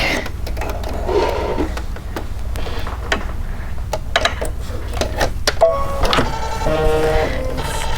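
A computerized embroidery machine stitches red thread onto quilting fabric, giving a steady rapid mechanical patter with clicks and brief whirring bursts, close and continuous throughout.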